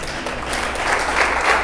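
An audience applauds for an audiovisual director at a church gathering, a dense, sustained round of clapping that grows slightly toward the end.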